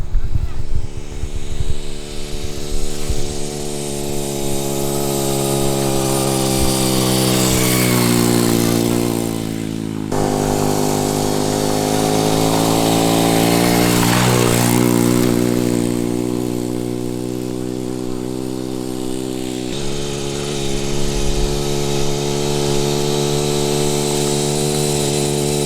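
A cheap pocket bike fitted with a racing engine revs up loudly and close, its buzzing note climbing in RPM as it passes, dipping, then rising again in a steady drone.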